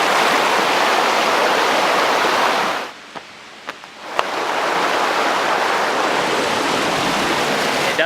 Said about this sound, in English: we're on our way to Gong Chao Waterfall